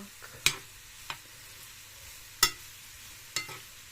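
Apples caramelizing with sugar in a pan are stirred, giving four quick scraping knocks spread over a few seconds against a quiet, faint sizzle, with no talking.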